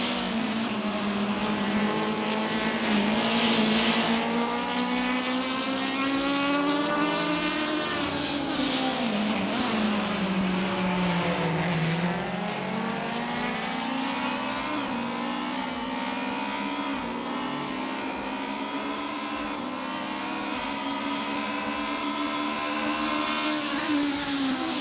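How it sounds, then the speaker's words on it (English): Electric touring race cars racing at Autodrom Most, a continuous loud high-pitched whine whose pitch rises and falls as the cars accelerate and brake, sustained without pause. "Just listen to those cars. I mean, they sound incredible."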